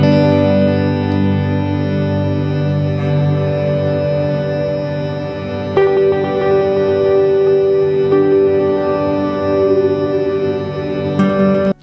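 A looped guitar drone runs through a pedal looper and multi-effects, giving a sustained, layered, distorted tone with chorus and reverb that holds steady and fairly loud throughout.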